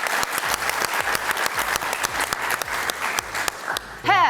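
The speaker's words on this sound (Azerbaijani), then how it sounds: "bu alqışlar sizin üçündür" A television game-show studio audience claps in a rhythmic, pulsing rhythm, loud and close, before the applause stops abruptly and a voice begins at the very end.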